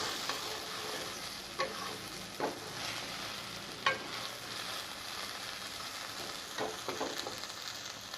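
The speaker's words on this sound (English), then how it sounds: "Let's saute it for some 5 to 7 minutes." Onions sautéing in a pan for Andhra-style onion chutney give a soft, continuous sizzle. Occasional brief scrapes and clicks from stirring come through, with no talking.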